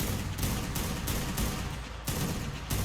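Rapid bursts of gunfire in ARK Survival Evolved Ragnarok, a modded map, pulse in several dense, even volleys, loud and close, filling the short moment with little else audible.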